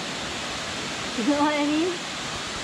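A tiny waterfall in Colorado makes a steady, soft rushing hiss that runs through the whole moment, while a person speaks briefly over it.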